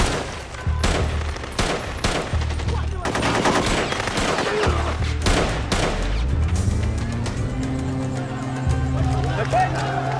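Rapid machine gun bursts and booming explosions in a street battle with Somali guerrillas, loud and close, rattling in repeated volleys and then giving way to a rumbling vehicle.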